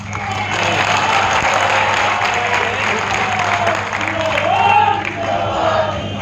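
Loud, dense applause from a large audience at a BJP political election rally in Bihar Sharif, with a low hum beneath and a cheer rising near the end.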